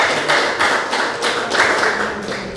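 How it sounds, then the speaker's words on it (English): A small audience at a domino league prize-giving ceremony claps for the teams, a loud and fairly sparse patter of hands with a slightly rhythmic pulse, close and without talk. "So you all deserve a round of applause."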